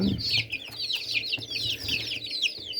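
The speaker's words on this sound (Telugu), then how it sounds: "ఇవి వచ్చేసి బెర్స కోళ్ళు అనమాట" Young Bersa breed chickens in a brooder keep up busy, overlapping high peeping and soft clucking, close by and continuous for a few seconds with no talk.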